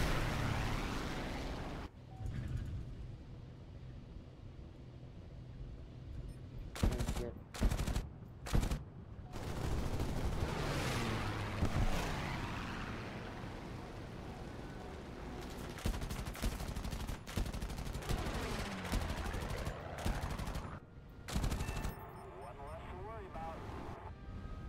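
Bombs fall on an airfield in a flight combat video game, with bursts of explosions and rapid gunfire over a continuous aircraft engine drone, several loud impacts scattered throughout while a voice talks at times.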